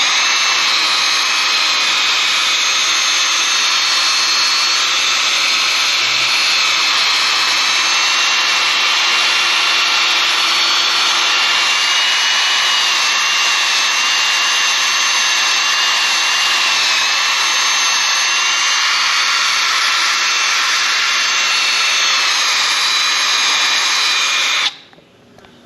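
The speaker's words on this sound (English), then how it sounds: "I'll be using a drill brush in this case" A steady, loud drill brush whirs continuously for about twenty-five seconds in a garage, scrubbing a car's underside with a broad hissing sound, then cuts off abruptly at the end.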